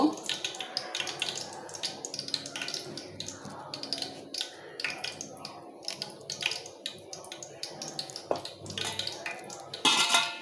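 Hot oil heating in a pan on a home kitchen stove, giving a steady crackling hiss with scattered clinks, heard close under a woman's speech.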